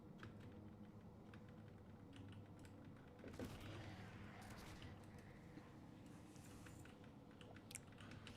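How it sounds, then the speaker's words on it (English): Faint, steady clicking of a computer keyboard being typed on, quick irregular keystrokes running throughout beneath a low background hum. "Your keyboard has lasted thrice as long as the relationship that it was gifted to you in."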